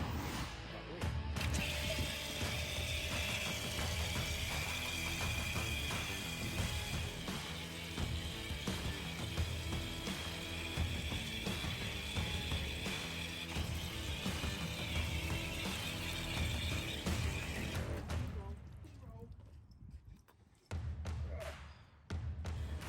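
A pressure washer running at low pressure rinses a motorbike drive chain, a steady loud hiss of spraying water with rattling mechanical texture for about eighteen seconds, then cutting off to a quieter tail.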